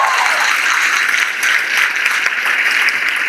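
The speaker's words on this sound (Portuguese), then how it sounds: "Vamos aplaudir ao Senhor." Loud, dense applause from an audience at a church youth musical celebration, an even wall of clapping that holds steady throughout with no talk over it.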